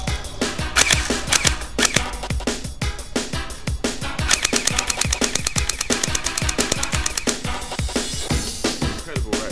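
An M4-style gravity-fed BB gun fires in a rapid, continuous stream of sharp clicking shots, dozens of crisp snaps packed closely together at a steady, loud rhythm with no talking.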